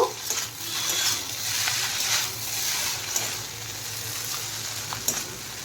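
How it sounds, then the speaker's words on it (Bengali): Spring onion greens being stirred into egg chowmein frying in a pan, a steady hiss of sizzling with small scraping stir sounds, close and fairly quiet, no voices. "একটু পেঁয়াজ কলি আর ওই পেঁয়াজ পাতা এটা দিয়ে একটু মিশিয়ে দেব"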